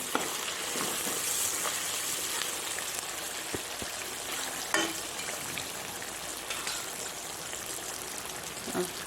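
Pork sizzles as it dry-fries in a pan, a steady bright crackle and hiss with occasional sharper pops and faint stirring taps, continuing without talk.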